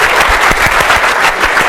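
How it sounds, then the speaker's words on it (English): A class bursts into applause at the end of a lecture, dense and loud clapping from many hands sustained throughout. "everybody give them a round of applause"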